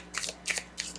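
Thick-cardstock tarot cards are shuffled in three quick, crisp riffling bursts, close and fairly quiet, with no talking.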